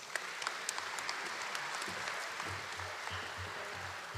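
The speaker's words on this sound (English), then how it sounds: "please give a round of applause for Ms. Joanne Brooks" An audience applauds at a formal gala ball celebrating Trinidad and Tobago Independence Day in 2023. The steady clapping fills the room at moderate volume for several seconds, with scattered sharper claps standing out, and nobody speaks.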